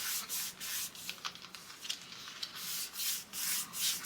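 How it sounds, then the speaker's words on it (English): A finger rubs firmly back and forth over paper, burnishing a layer in a mini album, giving close, soft, rhythmic swishing strokes repeated steadily with short pauses between them. "burnish with your finger"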